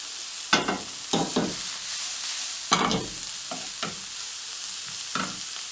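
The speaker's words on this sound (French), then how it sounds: "je vais faire revenir pendant environ 4 minutes" Taco filling with pepper sizzles and gets stirred in a frying pan, a steady fry punctuated by several louder scraping stirs at irregular intervals, close by with no talk.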